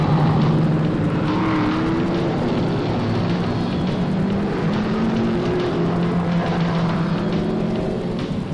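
Race cars at Mosport Speedway roar continuously down the back straightaway, a steady loud engine drone with shifting pitch as several cars pass, no voices.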